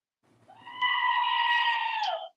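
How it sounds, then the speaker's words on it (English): A goat scream sound effect: one long, loud, harmonic bleating shriek that rises in quickly, holds steady for over a second, then cuts off, alone with no talk over it. "Warning, screaming goat."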